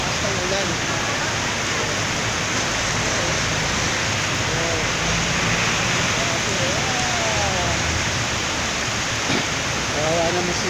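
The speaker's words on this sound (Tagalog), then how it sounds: "Sobrang lakas ng ulan." Heavy rain pours steadily and loudly around a person stranded in Uno, Lower Taguig, a dense unbroken hiss with a low rumble running throughout, while faint voices murmur beneath it.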